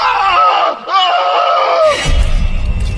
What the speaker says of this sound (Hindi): आकृति की ओर देखकर जोर से चीखा।